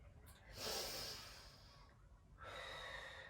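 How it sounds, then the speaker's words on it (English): Slow, deep breaths during a yoga back stretch in a rounded spine position: a long airy exhale swells and fades, then a fresh breath begins after a short pause, close and fairly soft. "just take 5 more breaths from this position"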